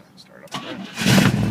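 A 1969 Camaro engine cranks and catches, rising abruptly into a loud, close rumble in the final half-second after a brief quieter lead-in.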